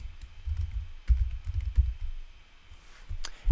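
Scattered keystrokes on a computer keyboard while entering a word to edit a community website link, a few quiet irregular taps with brief pauses between them, heard close and alone.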